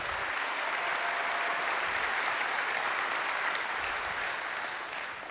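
Steady, dense audience applause at a public affairs event thanking a harbor commission, a continuous wash of many hands clapping that holds even and fades slightly at the end.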